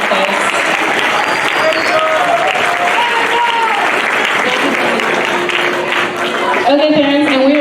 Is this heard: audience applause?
yes